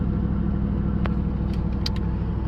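A pickup truck towing a camper trailer rolls along the road with a steady, dense engine and road rumble, close and constant, broken by a few faint short clicks or rattles.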